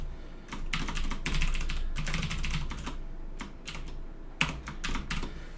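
Computer keyboard typing: close clusters of light key clicks in uneven bursts with short pauses between them, and no talking.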